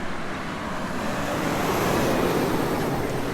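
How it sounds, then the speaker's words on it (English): A loud truck passes in roadway traffic in Carmel-Fishers, Indiana, its broad engine and tire roar swelling from a steady traffic hum and staying close and heavy to the end. "Here comes a loud truck."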